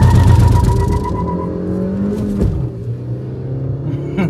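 Maruti Baleno and Brezza cars accelerating side by side in a drag race, a loud rumbling engine roar with rising revs that sweeps past and fades, no talking.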